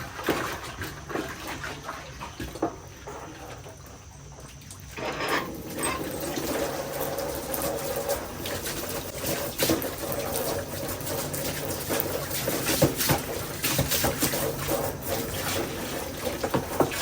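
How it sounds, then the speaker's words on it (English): Poultry processing equipment is washed out with soap and water, a steady rushing and splashing of running water that turns louder and busier after a few seconds and then carries on continuously, with no talking. "we're cleaning this out with soap and water"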